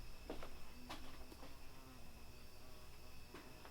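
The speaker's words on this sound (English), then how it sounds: "Every night at this time, there's a bee. Like a hornet thing." A hornet-like bee buzzes at a garage at night, a thin, steady insect drone with a few brief louder passes as it flies close, heard alone with no talk.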